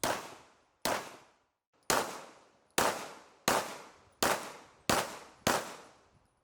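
Eight sharp gunshots ring out one after another at an outdoor range, rounds skipping off a car body and the ground, each crack loud and close with a decaying metallic ring, spaced roughly a second apart with no talking.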